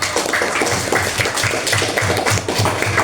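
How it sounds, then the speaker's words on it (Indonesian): Classroom of students clapping together, a dense, fairly loud burst of hand claps lasting a few seconds with a faint voice underneath. "Tepuk tangan untuk kita semuanya."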